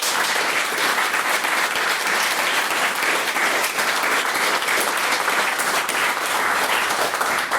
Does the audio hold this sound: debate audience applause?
yes